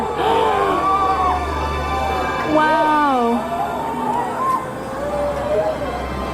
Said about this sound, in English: You can hear people screaming in the background.